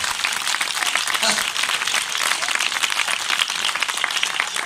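Church congregation applauding during a sermon by Rev Dr Pervez Kamran, a dense, continuous wash of clapping that carries on throughout.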